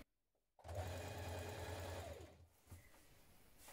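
A sewing machine runs a small zigzag stretch stitch, attaching a stretchy lace border to underwear: a loud, close, steady mechanical whir with rapid needle chatter that starts abruptly, holds for about two seconds, then winds down.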